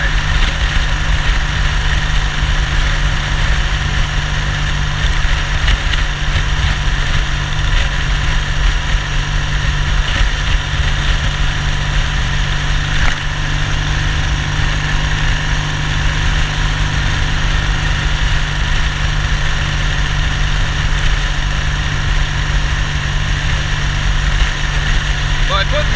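A Triumph Bonneville motorcycle, its big-bore engine fitted with a Norton crank, cruises on a highway with a steady, unbroken engine drone and road rumble that stays loud and even throughout.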